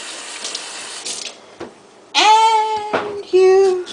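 Corn on the cob is washed under a running kitchen tap, a steady hiss of water broken by loud, tonal vocal sounds partway through.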